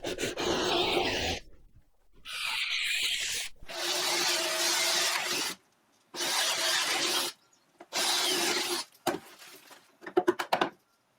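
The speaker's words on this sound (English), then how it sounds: "And then I'll just clean out those little ears with a chisel." A chisel cleans out a joint in green oak, giving bursts of scraping and rubbing strokes separated by short silences, ending with a few sharp taps, close and moderately loud.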